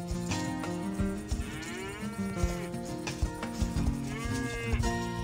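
Cattle in the video game Star Stable moo loudly and repeatedly, with several drawn-out, overlapping lowing calls from a herd close by.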